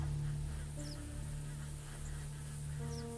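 Geese honking in the hunting game theHunter Call of the Wild, a few scattered honks and calls from a small flock at moderate distance over a steady low ambient hum.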